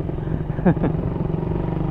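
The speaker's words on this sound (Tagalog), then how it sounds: "Kawasaki Barako 175. Binomba eh no. Pero grabe ang lakas ng tunog." A Kawasaki Barako 175 motorcycle engine rumbles steadily nearby, with a brief louder rev or passing surge in the middle before settling back to a constant drone.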